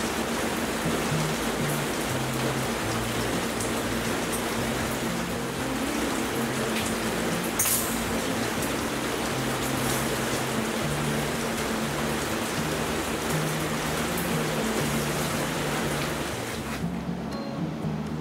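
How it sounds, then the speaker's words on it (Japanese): Heavy rain falls steadily outside a workshop where a frame is being welded, a dense continuous wash that persists for most of the stretch before cutting off near the end. "結構雨の音がうるさいですね。"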